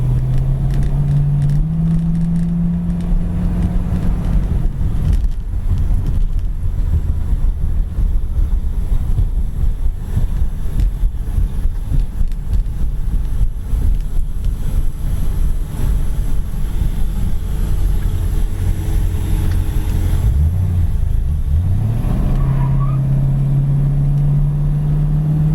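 A 1966 Ford Mustang GT with its exhaust droning steadily from inside while driving down the road, a low continuous engine hum with a gear change near the start and another toward the end, loud against wind and road noise.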